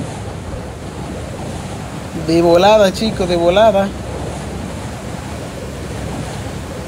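Ocean waves and surf in the video game Free Fire, a steady washing roar with wind noise throughout, briefly overlaid by someone talking in the middle.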